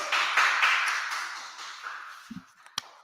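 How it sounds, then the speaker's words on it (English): Group clapping breaks out in a room during a scripture class, a dense burst of hand claps that swells at first and then tapers off, ending in a few scattered claps. "All right, clap it up, clap it up."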